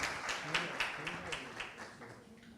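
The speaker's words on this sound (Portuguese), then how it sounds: "Palmas para eles, vamos fazer as fotos." An event audience claps in a loose, moderate patter of hands that gradually softens, with faint voices underneath.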